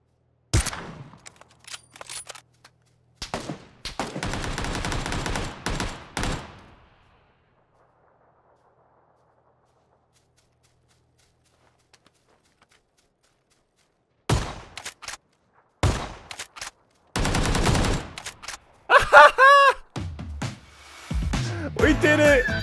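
Shotgun fire in the battle royale video game PUBG, bursts of heavy booming blasts in clusters separated by a long quiet gap, with a voice talking between shots.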